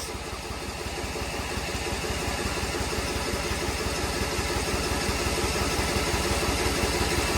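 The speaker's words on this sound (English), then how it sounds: "If this thing cranks, it'd be awesome." Engine on an old homestead machine running steadily at idle after cranking, a loud, even rapid pulsing that holds throughout without pause.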